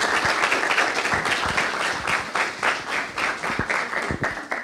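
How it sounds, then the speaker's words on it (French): Audience at the ETNA 2020 conference applauds after a talk, a steady wash of many hands clapping at moderate distance, continuous for several seconds with little talk. "On peut l'applaudir et puis merci."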